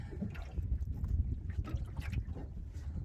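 An outboard motor on a small fishing boat runs steadily at sea while chasing a hooked golden trevally, a low continuous drone mixed with wind and water noise, no voices.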